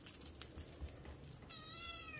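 A Lynx point Siamese kitten gives a single thin, high meow in the last second, clear and close above low handling rustle and room noise.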